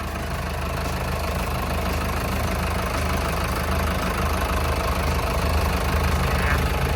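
An Isuzu 4BG diesel engine in a TCM L13 wheel loader idles steadily and evenly at close range, a continuous low rumble with a faint knocking rhythm and no talk.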